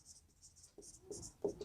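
Pen scratching on paper while a math solution to an arithmetic progression problem is written out: quiet, brief scratchy strokes in short bursts, close up, with faint low murmurs underneath.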